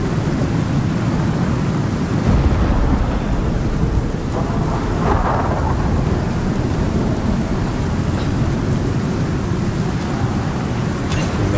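Thunderstorm in the survival game Icarus: steady, loud rain hiss with deep rolling thunder rumbles throughout, a continuous dense storm wash with no talking.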